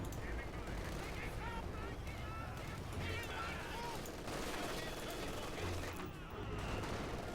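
Company of Heroes 2 battle sounds with steady, dense gunfire and booming artillery-like blasts rolling on throughout, loud and continuous, while a voice commentates over the combat.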